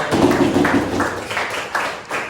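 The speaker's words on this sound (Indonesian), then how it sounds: "tepuk tangan buat Fahri" Students in a high school classroom at SMAN 3 Samarinda applaud a classmate, a dense, steady wash of clapping that carries on loudly and close throughout.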